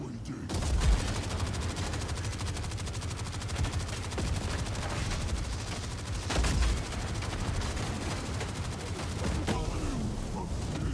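Video game combat with dense, continuous rapid gunfire and sporadic heavier blasts, loud and sustained across the whole stretch, with occasional voices underneath.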